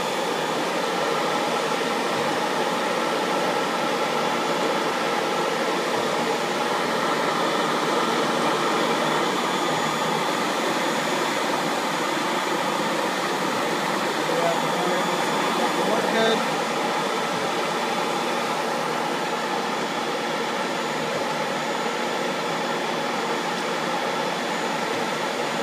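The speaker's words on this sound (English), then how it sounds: "I don't have a belt right now for the internal grinder spindle, but I can start the motor." Steady, loud mechanical whine and roar of an internal grinding machine's motor running without its spindle belt, a continuous broadband drone with no change throughout.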